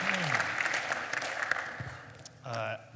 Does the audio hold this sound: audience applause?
yes